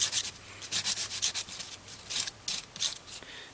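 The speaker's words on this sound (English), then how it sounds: "So now I'm going to just smooth out the edges with some sandpaper here." Wet-dry 400 grit sandpaper rubbed by hand over the edges of a silver spoon ring, giving short raspy strokes in uneven bursts, close and fairly quiet.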